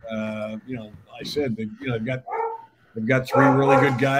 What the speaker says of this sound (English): Apologize for my dog.